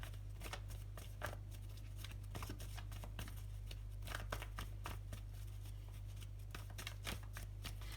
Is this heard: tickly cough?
no